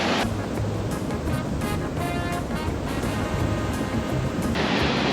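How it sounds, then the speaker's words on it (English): Ocean waves crash on a beach at sunset in Costa Rica, with a continuous surf roar and a louder wash rising near the end. No one speaks. "behind us, the sunset with all the waves crashing"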